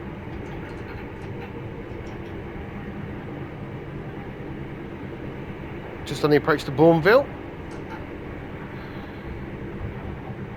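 A Train Sim World 3 passenger train on the Birmingham Cross City line, running between Bromsgrove and Birmingham near Bournville, hums and rumbles steadily on the track while someone talks over it, with a short burst of higher-pitched sounds midway.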